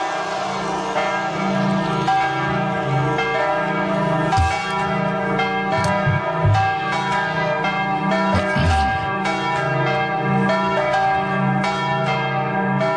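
Church bells ringing continuously in a full, rich peal, overlapping strikes with long ringing overtones, loud and sustained throughout, with no voices over them.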